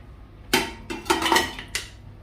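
Meat goes into a metal pressure cooker while cooking Eid al-Adha pulao, making a handful of close metallic clanks and clinks spread over about a second and a half, with no talking.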